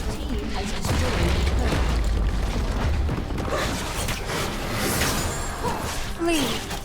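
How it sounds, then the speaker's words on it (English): A turret in League of Legends bursts apart with a heavy booming crash and whooshing debris, loud and close amid game effects, with a deep low rumble that fades out. "Your team has destroyed a turret."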